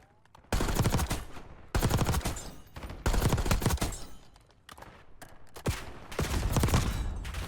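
Video game rifle fitted with a vertical foregrip firing in several sustained full-auto bursts, each a dense rattle of close, punchy shots separated by short pauses, with no voices over it.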